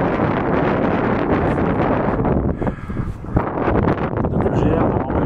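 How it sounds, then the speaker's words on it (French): Strong gusts on an outdoor hiking trail near Besançon batter the microphone in a loud, continuous roar, briefly easing midway before surging back. "il y a un vent terrible"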